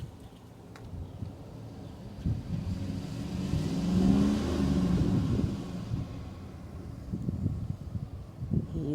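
A car stuck on ice-covered ground in a Kentucky snowstorm revs its engine hard, the mid-pitched roar swelling and holding steady as the tires fail to grip, then easing and surging again in shorter bursts.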